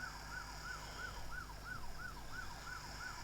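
A French national police car siren wails in a quick, repeating two-tone rise and fall, about nine even cycles, steady and fairly close over a low engine hum.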